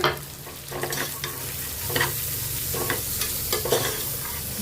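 Two medium chopped onions and three or four green chillies fry in hot oil for a catering-style dal fry, with a close, crackling sizzle broken by repeated scraping stirs of a spatula across the pan, no voices.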